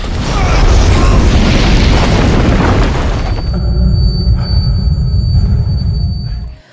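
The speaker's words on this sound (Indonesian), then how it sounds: "Lin Siro berhasil kabur tepat sebelum bom meledak" A bomb explosion in a film erupts as a loud, sustained roaring boom with deep rumble, then thins into a ringing, crackling aftermath before cutting off.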